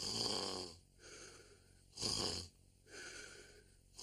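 Loud, close snoring in a cartoon scene, with two long, rasping inhalations separated by softer wheezing breaths in a slow, regular rhythm.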